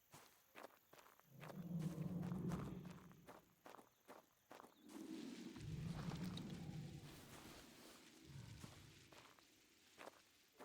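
Footsteps in the game Prehistoric Hunt, a steady run of heavy thudding steps at mid distance, coming in three longer bursts with short pauses between them and no talk over them.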